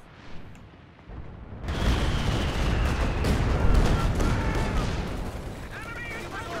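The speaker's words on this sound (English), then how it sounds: "Stuka barrage doesn't look like it hit too much there." A Stuka barrage bombardment in Company of Heroes 2, set on a winter map in a 3v3 battle: a sudden dense rumble of blasts and gunfire that swells and stays loud, with talk faintly underneath.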